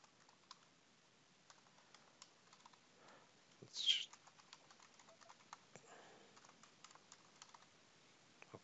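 Soft, faint clicks of typing on a computer keyboard during database login setup, scattered and irregular, with one brief louder tap midway and otherwise quiet room tone.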